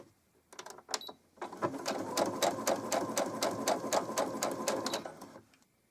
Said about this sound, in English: We are going to start with the straight stitch on the preloaded settings, and we're just going to do a few stitches of that.